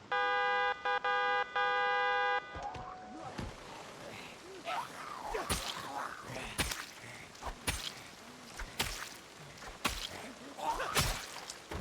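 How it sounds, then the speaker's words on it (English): A loud vehicle horn blares in repeated tonal bursts at the start, followed by a stretch of people talking and reacting with sharp bursts of laughter and exclamations. "Could you imagine having somebody honk that behind you?"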